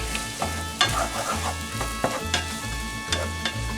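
Peppers and potato mixture sizzle steadily in a pan as they cook down, a continuous close frying hiss broken by a few sharper pops and stirring scrapes, with no talking.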